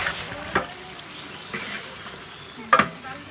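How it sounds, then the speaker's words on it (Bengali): Meat with spices cooking in a pan for bhuna khichuri, giving a low frying hiss with a few short stirring scrapes, the sharpest one near the end; no voices. "এই যে মশলা কষানো হয়ে গেছে এই মাংসটা"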